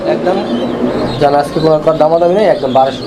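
Pigeons coo softly among a pair kept for sale, their low calls mixed in with steady human talk close by.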